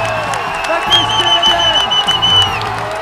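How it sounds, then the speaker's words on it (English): A crowd in the stands at a Battle of the Nations medieval combat tournament in Prague cheers and claps during a 5 vs 5 fight, a loud, continuous roar with whoops and whistles, and a commentator speaking over it. "And now the crowd is going absolutely nuts here."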